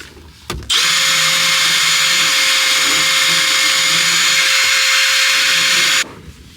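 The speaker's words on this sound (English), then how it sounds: "Check this out a couple minutes later of me just Dremeling away." A Dremel rotary tool grinds out a port adapter on a Mazda Miata, a loud, steady high-pitched whine running for about five seconds after a brief start and cutting off abruptly.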